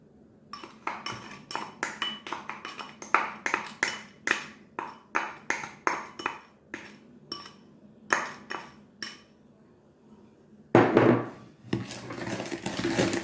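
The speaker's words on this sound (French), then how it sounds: "Je vais le mélanger avec le mélange que j'avais fait avec le beurre et le sucre" Egg yolks being mixed into creamed butter and sugar in a bowl for a Haitian cake, with a steady run of clinking utensil strikes against the bowl, a short pause, then a denser burst of scraping and tapping.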